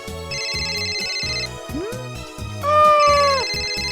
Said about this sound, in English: Yuri's cell phone starts to ring.